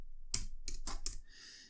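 Four quick keystrokes tapped on a computer keyboard, crisp and close, followed by a soft faint tone with no speech.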